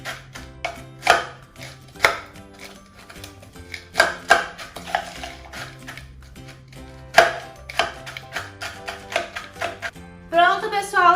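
Biscuits being crushed by hand for pastry dough, heard as a busy run of crunching, rubbing and tapping bursts, close and fairly loud, continuing steadily with a voice talking over it.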